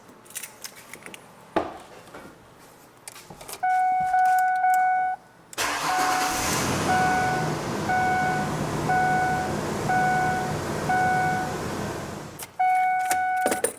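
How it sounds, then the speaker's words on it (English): A 2002-2005 Ford Explorer with a 4.0L engine: a few clicks and a door-chime beep, then the starter cranks briefly before the engine catches and settles into a steady idle, with warning chimes repeating over the running engine. "So let's give it a crank and see what happens."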